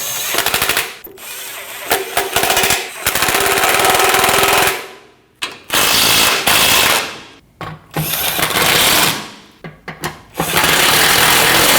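Impact wrench or power tool running down the radiator cover bolts on a 2012–2021 Nissan NV2500 5.6L V8, loud repeated rattling bursts of a few seconds each with short pauses between them, close up.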